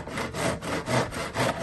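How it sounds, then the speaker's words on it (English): A saw mitering the ends of wooden trim rasps back and forth in quick, even strokes, close and loud, with no talking. "I'm going to miter both ends of this so that they slide together rather than butt together."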